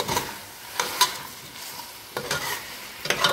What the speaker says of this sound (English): Sear a little bit again.